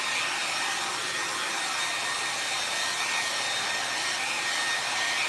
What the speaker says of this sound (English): we're also going to use this hair dryer to spread the paint out